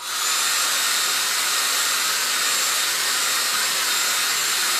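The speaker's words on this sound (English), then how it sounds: "I'm just going to hit it with a dryer." A steady, loud rush of blowing air from a hand-held dryer running close by without pause, drying a chalk transfer.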